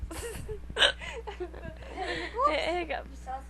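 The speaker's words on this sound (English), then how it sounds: "The hiccups." Someone hiccups repeatedly, short jerky catches scattered through the clip, mixed with chuckling and nearby talk in a quiet room.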